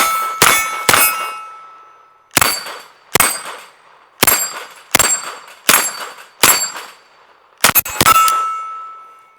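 A Calico gun fires at a shooting range, sharp loud shots in quick pairs and singles with metallic clanging ring-outs, spread across the stretch with short pauses between.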